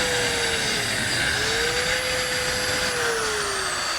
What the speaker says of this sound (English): while I have the router set up, I'm also running another piece to make this scotia to go right under the top